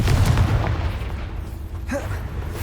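A Confringo spell explodes in Hogwarts Legacy with a loud, close boom and crackling burst, followed by a brief sharper pop, set against game combat sounds.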